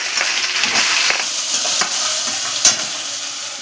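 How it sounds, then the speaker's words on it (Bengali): Chopped onion hissing and sizzling in hot oil in a wok, a close, steady frying crackle broken by occasional scraping stirs. "এবার পেঁয়াজ কুচি দিয়ে দিলাম।"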